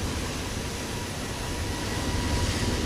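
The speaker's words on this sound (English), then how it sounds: "Sounds like we hear a jet somewhere out here." A jet aircraft flies nearby in Microsoft Flight Simulator 2024, a steady, broad roar holding at even loudness throughout with no voices.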